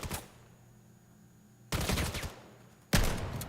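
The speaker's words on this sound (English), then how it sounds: "Pablo utilizing the SMG." Rapid SMG fire in the VR shooter VAIL during a competitive match, a burst at the start followed by two louder, dense volleys of close gunfire with no talk.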